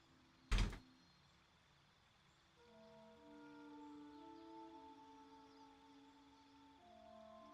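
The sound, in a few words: door opening and shutting in Baldur's Gate 3 video game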